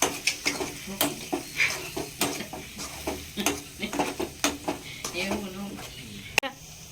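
Chopped chillies being stirred around a metal pan for a paneer curry, with a steady run of spatula scrapes and clinks over a soft sizzle, ending in one sharp knock.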